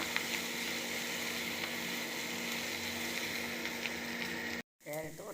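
Carrot and curry leaves sautéing in a pan give a steady, dense sizzle with bubbling texture that runs unbroken, then cuts out abruptly near the end before a brief bit of clatter.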